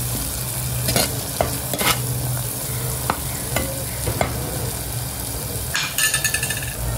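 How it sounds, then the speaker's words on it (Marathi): Spices for a Malvani-style dish roast and sizzle in oil in a pan, with a steady frying hiss throughout and occasional scrapes and clinks of a stirring spoon against the pan. "मसाले भाजून घेऊया छानपैकी,"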